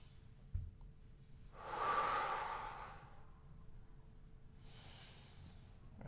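A single long exhale during a floor exercise with the back pressed to the ground, a breathy rush swelling and fading over about a second, with a fainter breath following later; quiet and close, no talking.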